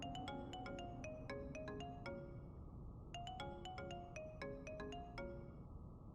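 A phone rings after a call is dialed: a melodic ringtone plays a bright descending run of notes, repeats after a short pause, and continues steadily and clearly with no talking.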